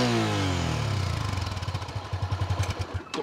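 A Honda CB300F motorcycle engine revs and accelerates, its deep drone rising in pitch before settling into a rhythmic, pulsing idle, loud and close with no talking.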